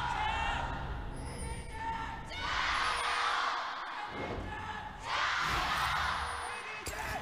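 Large esports arena crowd at a League of Legends LPL Spring Split match cheering and roaring in swelling waves, loud and continuous, with a commentator talking over it.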